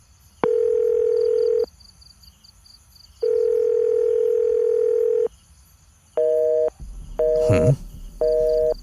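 A telephone busy signal: steady electronic tone bursts, two long ones, then several shorter pulses in an even rhythm, loud and close, with a little noise near the end.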